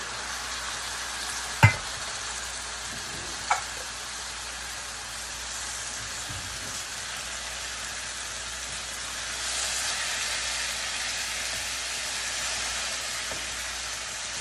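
Gourd leaf greens stir-frying with garlic in a pan: a continuous close sizzle with a couple of sharp utensil knocks early on and a slight swell of hissing later.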